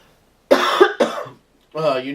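A couple of sharp, close coughs in quick succession, followed after a short pause by a voice beginning to speak.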